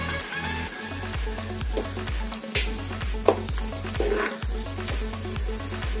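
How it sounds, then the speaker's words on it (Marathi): Paneer pav bhaji being stirred in a pan, a soft sizzle under regular scraping strokes of a spoon, a steady rhythmic beat against the cooking with no speech. "आता मिक्स करून घेऊया व्यवस्थित आपण।"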